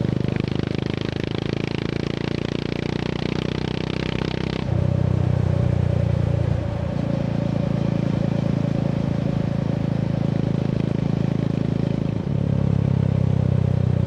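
Honda GB350 single-cylinder motorcycle fitted with a Black Widow 200mm carbon-tip exhaust, dB killer removed, riding along with a steady deep thumping engine note, loud and continuous, shifting pitch with gear changes and throttle.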